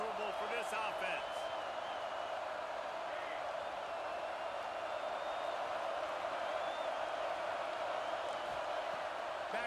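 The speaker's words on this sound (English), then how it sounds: "This crowd trying to make life miserable for this offense." A steady roar rises from a stadium crowd in an American football video game, constant and moderately loud, with faint whistles and cheers rising above it.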